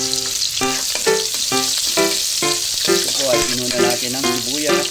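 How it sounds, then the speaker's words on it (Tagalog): Onion and garlic sautéing in hot oil in a pan for a Filipino kilawin dish, a steady, close hissing sizzle running the whole time beneath a layer of tuneful background music. "ngayon po ay pinainitan na natin ang mantika at tayo po ay magsisimula ng maggisa."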